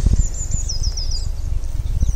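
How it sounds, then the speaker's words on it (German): A few small birds chirp outdoors in spring with a quick, fluttering high twitter in the middle. Soft wind and low rumbling sit beneath it, and one more brief call comes near the end. "Ein paar Vögel zwitschern."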